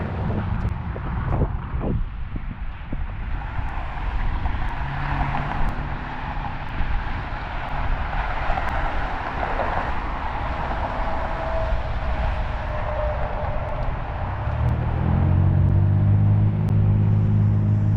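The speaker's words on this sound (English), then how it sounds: "Gotta love that traffic noise, baby." Road traffic passing by: a steady, loud rumble of cars goes on throughout and swells near the end into a heavier, droning engine tone as a vehicle goes past. No one speaks.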